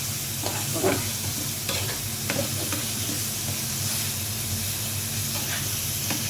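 Cleaned beef pieces frying in a pan with spices for a Sylhet-style hatkora beef curry, a steady loud sizzle and hiss with occasional scraping stirs, no talking.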